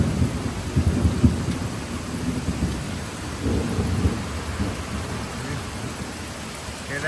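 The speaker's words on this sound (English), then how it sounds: "Hear that thunder?" Thunder rumbles low and heavy through a rain shower, swelling twice over steady rainfall pattering on surfaces nearby, with no talking.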